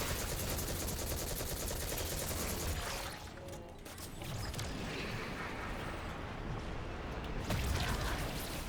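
Dense, loud bursts of rapid gunfire and explosions from the sci-fi shooter game Destiny 2 fill the whole stretch, with a brief lull midway before the barrage resumes.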